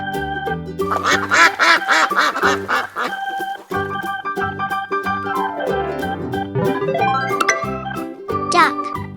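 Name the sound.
duck quacking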